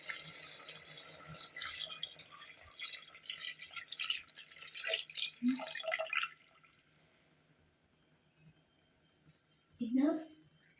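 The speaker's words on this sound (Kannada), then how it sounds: "ಇವಾಗ ನೀರು ಹಾಕಬೇಕು." Water pours steadily into a biryani pot for several seconds, a bright splashing stream that then stops, with a voice talking afterward.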